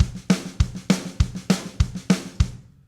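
A programmed country train drum loop with a steady, even groove: punchy kicks alternating with accented snare hits on the and of every beat, dry and up close, no voices.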